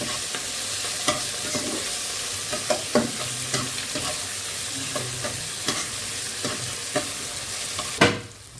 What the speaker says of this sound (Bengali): পেঁয়াজটা আমি এখন দিয়ে দিচ্ছি ফোড়নে। পেঁয়াজটা একটু ভাজি ভাজি হলে বাকি মশলা আমি দিয়ে দেব।